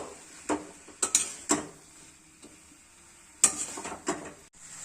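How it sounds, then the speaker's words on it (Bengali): Vegetables being stirred with spices in a cooking pan: a few sharp scraping clinks of a spoon against the pan in short bursts over a quiet background, with no talking. "এবার সব নেড়ে নেড়ে সবজিগুলোকে মশলার সঙ্গে মিশিয়ে দিতে থাকবো"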